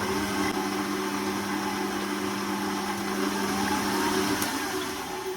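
Wet ingredients for a gluten-free sourdough being blended, a steady, loud motor whir with a constant hum running unbroken throughout.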